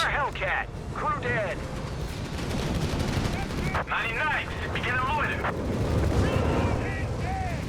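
Dense gunfire and artillery barrages from a Company of Heroes 3 multiplayer battle, with steady crackling small-arms fire, machine-gun bursts and booming shell impacts running throughout, loud and continuous, with a commentator's voice talking over the combat.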